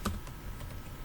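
Quick clicking keystrokes on a computer keyboard while code is typed, a short soft run of taps close by with no voice.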